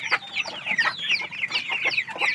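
A flock of 45-day-old broiler chickens cluck and chatter close by in a dense, overlapping stream of short calls, with no voices.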